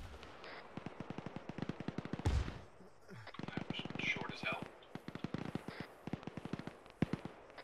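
Rapid machine-gun and rifle fire in the Arma 3 video game, a long stream of sharp close bursts with a heavier blast partway through, as players talk over the shooting.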